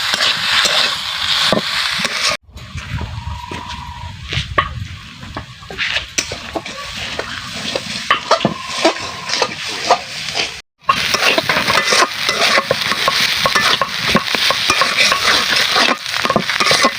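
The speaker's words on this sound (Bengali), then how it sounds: "মাছগুলো একটু ভেজে নিব আলুগুলোর সাথে" Mirror carp pieces frying with potatoes in a pan give a steady, loud sizzle broken by stirring scrapes, with one brief pause midway before the frying resumes.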